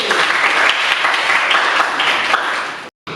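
A mathematics class gives a round of applause: many hands clapping in a dense, even burst for about three seconds before it cuts off abruptly.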